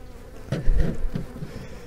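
Honeybees swarm and buzz in a steady, close drone at an opened hive during a March inspection, with slightly louder swells as frames are lifted and no voices.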